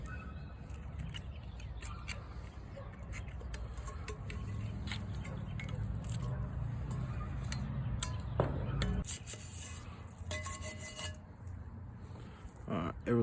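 Burnt residue is scraped off a cast iron pan in steady rasping strokes, close and fairly quiet, with a few sharper scrapes and knocks near the end.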